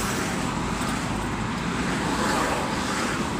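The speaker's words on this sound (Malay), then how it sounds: "Ini pun memang banyak kereta lah guys." Heavy car traffic on a busy Johor Bahru road makes an unbroken, loud roadway roar of passing vehicles, steady across the whole stretch with no voices.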